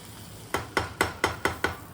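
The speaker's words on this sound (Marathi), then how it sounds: "त्याची फोडणी देते वरून." Butter, green chilies and goda masala are poured as a tempering over chole, giving six sharp sizzling bursts in a quick, even rhythm. Each burst fades quickly and there is no talk.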